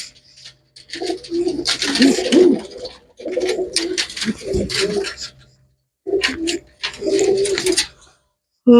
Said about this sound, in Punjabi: ਕਬੂਤਰੀ